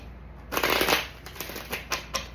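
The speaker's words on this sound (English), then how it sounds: "Get one more shuffle." A tarot deck is shuffled up close: a quick riffling burst followed by several shorter, crisp flutters.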